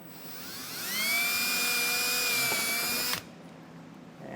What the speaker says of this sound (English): I'm going to take a 1/4-inch drill bit and just drill out 2 spots.